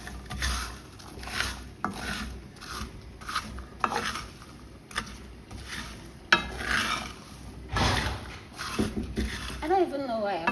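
Groundnuts roasting in a pan at home, scraped and stirred with a utensil in repeated rough scratching strokes and soft rattles close up, with a person talking over parts of it.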